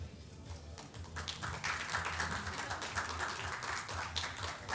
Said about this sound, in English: a nice polite round of applause from the crowd